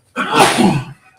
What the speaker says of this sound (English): We're both sneezing.